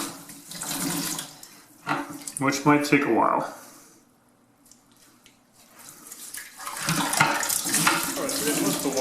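Water from a toilet tank being soaked up and wrung into a bucket, with splashing and trickling in bursts that fade to near quiet, then return. A person talks briefly over the sound.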